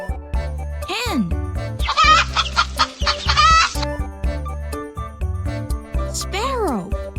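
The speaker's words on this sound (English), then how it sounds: "Hen." Hen clucking in rapid, loud bursts in the middle of the clip, bracketed by voice-like swooping sounds, with music playing underneath.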